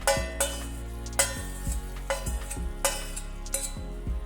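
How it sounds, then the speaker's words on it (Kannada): Tempering of oil, mustard seeds, dried red chillies, curry leaves and asafoetida for sambar, a steady sizzle with sharp crackles and spattering pops over a low hum, near and without talk. "ಇದಕ್ಕೊಂದು ಒಗ್ಗರಣೆ ಹಾಕೊಳ್ಳೋಣ"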